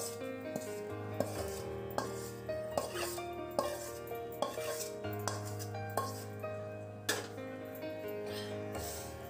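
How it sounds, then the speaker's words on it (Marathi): Spiced bhadang, a puffed rice snack, stirred and tossed in a large pan, with a spoon scraping and clinking against metal in a regular rhythm of knocks over a soft rustle, close and fairly quiet. "आता मी हे सगळं एकदम मस्त पैकी हलवून घेते."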